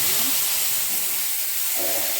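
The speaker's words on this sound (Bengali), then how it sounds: "এবার এই গরম তেলের মধ্যে এই মশলাটা দিয়ে দিলাম" Spice paste of tomato, chilli, coriander, cumin and turmeric dropped into hot oil, producing a loud, close, continuous hissing sizzle that stays steady for the whole moment, with no one speaking.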